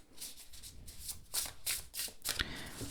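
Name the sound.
tarot cards being shuffled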